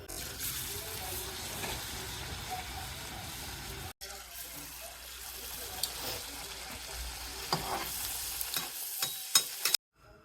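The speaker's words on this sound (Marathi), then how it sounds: "आपण आता तेल तापलेलं आहे तर आपण तेलामध्ये एक एक वडा टाकून घेऊया" Pumpkin gharge vadas dropped one by one into hot oil, a steady close sizzling and bubbling of deep frying that continues throughout with small crackles.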